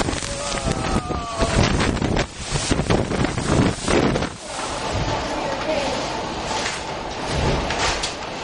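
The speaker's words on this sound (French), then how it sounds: "Des rafales de vent de plus de 50 nœuds ont frappé le Carnival Pride près des Bermudes." Gale-force gusts buffeting the Carnival Pride cruise ship near Bermuda, loud roaring wind noise slamming into the microphone in surging bursts over a constant rushing backdrop.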